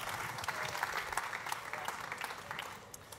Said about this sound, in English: you both deserve an applause